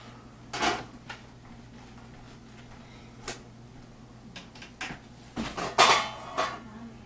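A pan is pulled out from among cookware and utensils in a home kitchen, with scattered clinks and clatters of pots, pans and cutlery arriving in short bursts, loudest near the end, over a quiet background.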